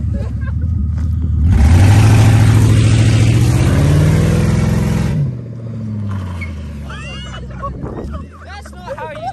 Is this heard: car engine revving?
yes